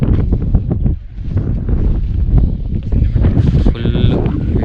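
Cold wind blows at a hilltop viewpoint, roaring steadily and loudly against the microphone with gusty buffeting throughout.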